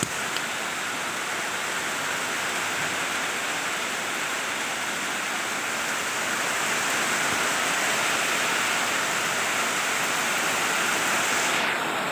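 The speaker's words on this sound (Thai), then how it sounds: "ฝนตกค่อนข้างที่จะแรงครับ" Heavy rain pours down steadily, a dense, continuous hiss that stays loud and even from start to finish with no voices.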